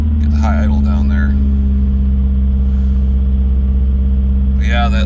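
A 1984 Toyota Tercel 4WD SR5 engine with a sticking throttle cable holds a high idle, a loud, close, steady rumble, while a person talks over it at the start and end.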